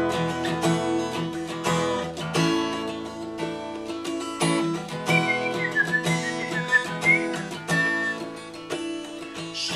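A whistled melody from a cover of a song, carried over guitar accompaniment, with bright sustained whistled phrases rising and gliding through the middle of the passage.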